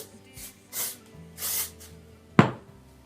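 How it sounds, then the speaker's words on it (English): Dry shampoo sprayed at the hair roots during no-heat styling, heard as a few short soft hissing bursts about a second apart, then a sharper rustling knock near the end. "first you want to take your dry shampoo and just spray that at your root."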